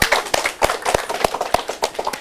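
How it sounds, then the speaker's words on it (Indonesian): Audience applause in a TV studio, heard as a short burst of sparse, uneven claps from a small group, close and fairly loud. "Tepuk tangan untuk teman-teman di Ubara."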